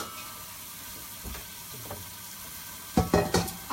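Onions cooking in a pan give a soft, steady sizzle with faint stirring, then a few louder scraping clatters near the end, close by and with no talk.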